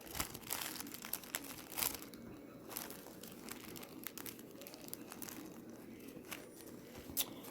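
Squares of paper crinkle and rustle in the hands while a marshmallow chocolate pop bouquet is being made, with irregular close crackles coming in bursts throughout.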